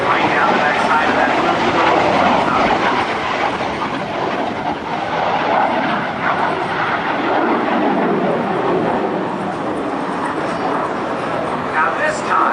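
An F-86 Sabre and a P-51 Mustang perform at an airshow, a loud continuous roar of aircraft engines rushing past with a broad, noisy wash; an announcer's voice runs underneath.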